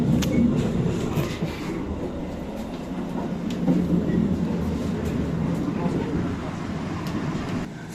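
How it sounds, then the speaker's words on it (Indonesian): Gaya Baru Malam Selatan economy passenger train rumbling along the rails at close range, a steady loud roll with faint rhythmic wheel clicks and voices talking inside the carriage. "Saat ini kereta api Gaya Baru Malam Selatan tiba di stasiun Popok."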